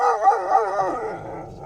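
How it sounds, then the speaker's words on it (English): A dog at the Mid Argyll agricultural show lets out a short, close, wavering howl with a bark-like onset, fading after about a second. "Dog's not happy."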